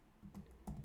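Keys tapped on a computer keyboard while code is typed, a short burst of a few close clicks with a brief pause between them.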